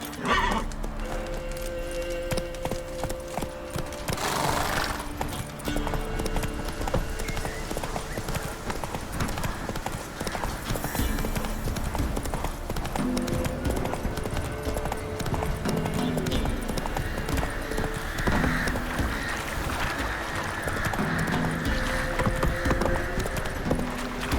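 Steady hoofbeats of Roach, a horse in The Witcher 3, galloping close and continuous, with neighs and snorts breaking through and low game music underneath.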